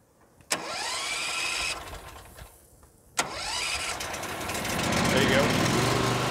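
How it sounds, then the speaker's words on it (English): A Hotsy 1260SSG pressure washer's small gas engine is pull-started with the choke out, giving a sharp clunk and brief sputter, then a second pull that catches into a loud, steady running drone that builds and holds. "You'll pull out the choke and then you'll start the machine."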